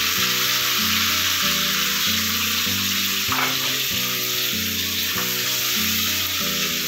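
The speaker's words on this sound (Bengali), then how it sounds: "এরপরে যে পরিমাণ মতো আমি ঝিনুকটা দিচ্ছি।" Mussels hitting a hot frying pan in a home village kitchen, giving a loud, steady sizzle that runs the whole time, with a soft backing of stirring and gentle scraping.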